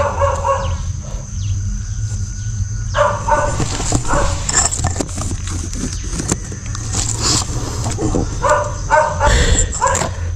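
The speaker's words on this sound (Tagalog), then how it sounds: "tahol na tahol yung aso kasi" A dog barks repeatedly outdoors, sharp barks and yips coming in bursts over a steady low rumble of background noise.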